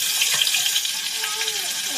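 Katla fish heads hit hot mustard oil, setting off a bright, hissing sizzle that stays steady and close for a couple of seconds.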